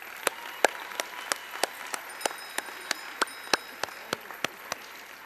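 Sparse clapping for committee members at an American Legion Auxiliary national convention session, a series of distinct, fairly quiet single claps spaced at a loose, even rhythm, as from just a few people in a large hall.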